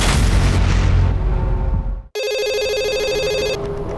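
A telephone rings in a crime drama, a loud electronic trilling ring starting abruptly after a heavy noisy rumble cuts out, then holding steady for over a second before stopping.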